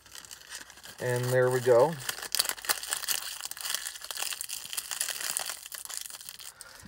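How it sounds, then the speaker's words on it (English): Protective film being peeled off the gauge cluster of a 2021 Volkswagen Jetta R-Line, a close crinkling and crackling of plastic sheet that is loudest early and then fades into small rustles, with a short spoken remark. "Now we gotta peel off the gauge film."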